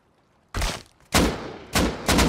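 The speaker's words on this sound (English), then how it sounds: "He's missing his shots." Four loud, sharp gunshots in the survival game Rust, spaced irregularly after a quiet start, each a close, punchy crack with a short decaying tail.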